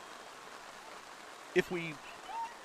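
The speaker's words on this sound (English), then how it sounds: "with all this rain and the equipment out here" Rain falls at an outdoor high school football game, a faint steady hiss running throughout, with brief speech from a man breaking in near the middle.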